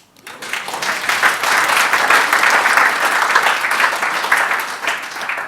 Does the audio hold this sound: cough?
no